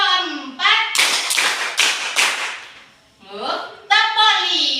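Children in an Indonesian classroom clap along to a teacher's counted clapping game, several sharp bursts of group claps falling in a quick rhythm between spoken prompts from an adult voice.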